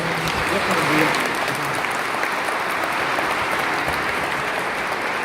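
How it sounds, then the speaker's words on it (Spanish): Loud, sustained applause from a crowd, a dense wash of clapping that swells briefly near the start and holds steady throughout. "Merece un aplauso fuerte."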